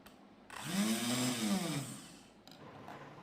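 A repaired handheld kitchen blender runs in one short burst of about a second and a half. Its motor whines up and then winds down, quiet and close, with a faint click afterwards.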